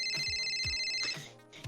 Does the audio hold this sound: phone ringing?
yes